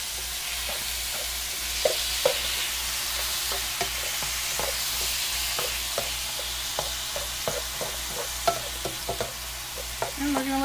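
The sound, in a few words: chicken pot pie filling cooking in pan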